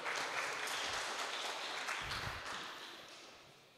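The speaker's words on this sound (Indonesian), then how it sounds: "tepuk tangan dong, kita yang pertama" An audience claps at a stand-up comedy contest, a dense, fairly faint wash of hands that holds steady, then thins and fades toward the end, with no voices over it.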